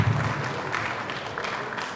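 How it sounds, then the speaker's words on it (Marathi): Applause for the producer at a film trailer launch event, a steady wash of clapping from an audience that holds throughout without pause. "योगिता गौरी यांच्यासाठी जोरदार टाळ्या"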